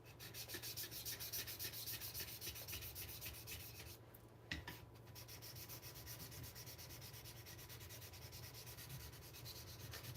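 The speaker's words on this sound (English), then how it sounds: "Now this is just polishing." Custom Apex Ultra gyuto knife blade being polished by hand, a steady rhythmic rasping rub of fast back-and-forth strokes that pauses briefly midway, close and fairly quiet.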